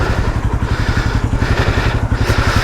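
A Falcon Freedom 250 motorcycle that has sat unused for a long time idles to warm up, its engine running in a steady, fast, loping thump with a mechanical clatter, close and loud, with no talking.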